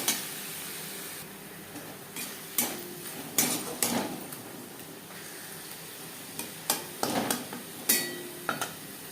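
A spoon stirs ground tomato, ginger and green chilli paste with onions in a pan, making repeated metallic scrapes and clinks in irregular bursts over a low sizzle.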